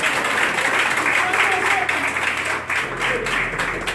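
A crowd applauds the press at an opposition rally, a dense, steady roar of clapping lasting several seconds, with a voice speaking over it.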